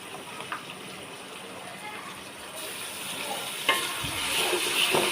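Onions fry in a pan as ginger garlic paste goes in while beef curry is cooked, a soft continuous sizzle with stirring and a few brief clatters, rising toward the end.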